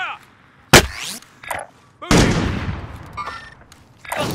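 Gunfire in a first-person shooter game: a sharp loud shot, then a heavy burst with a booming tail, followed by further bursts and crackling shots nearby, with players calling out over the action.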